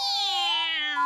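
A single drawn-out cat meow, loud and close, sliding slightly downward in pitch with no other sounds around it.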